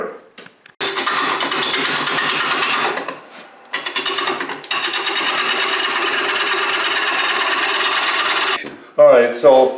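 A wood bowl blank is faced off on a lathe while the cutting tool scrapes against the spinning wood with a loud, sustained, rough grinding whine. Brief gaps fall between passes, and a voice cuts in at the end.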